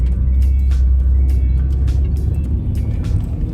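Stage 1+ tuned 2016 Subaru WRX with an aftermarket intake, its turbocharged engine running as a loud, steady low rumble that holds throughout, with brief bursts of higher hiss or whoosh layered over it.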